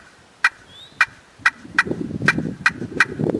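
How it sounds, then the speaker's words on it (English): Seven sharp, evenly spaced cuts struck on the glass side of a friction turkey call, each a bright, loud clucking snap standing alone, with a low rumbling background creeping in toward the end. "Now let's go to my cuts on this side,"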